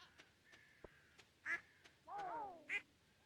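Farm geese in the Stardew Valley video game sound off in a few short, nasal honks, one drawn-out call in the middle, with faint clicks between them and no talking.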